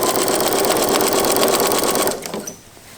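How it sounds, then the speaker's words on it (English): A sewing machine runs at a fast, steady rhythmic whir while stitching the raw edges of a folded quilt binding strip for a quillow, loud and close, then stops abruptly about two-thirds of the way through, leaving quiet room tone. "I've folded the strip with the wrong sides together, and I'm sewing all the raw edges next to each other"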